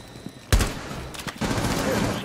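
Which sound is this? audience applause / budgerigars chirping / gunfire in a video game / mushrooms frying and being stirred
gunfire in a video game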